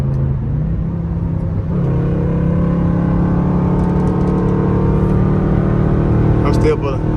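Dodge Durango engine in traffic, a steady loud rumble and drone rising as it downshifts and pulls, running continuously throughout at close range with a brief higher rattle near the end.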